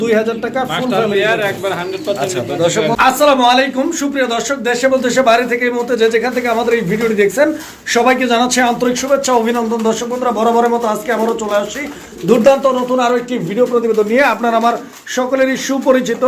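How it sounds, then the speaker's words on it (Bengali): A large flock of pigeons coos continuously at a pigeon farm, with overlapping rolling calls close by while someone talks loudly over them. "কবুতরের খামারে আজকেও হিউজ পরিমাণ কবুতরের কালেকশন রয়েছে"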